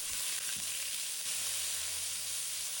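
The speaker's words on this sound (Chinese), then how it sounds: "把五花肉放入锅中，把它翻炒均匀" Pork belly stir-fries in hot oil in a wok, a dense continuous hiss and sizzle with faint stirring thumps underneath, close and steady with no talk.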